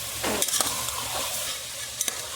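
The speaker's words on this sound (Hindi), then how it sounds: "तेल में अच्छे से इसको भून लेंगे" Onions frying in oil while being stirred in a pan for a green chicken dish, a steady close sizzle with a few scraping stir strokes, no talking.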